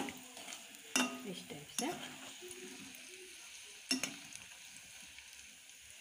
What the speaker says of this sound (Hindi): अब ये गट्टे तल गए अपने।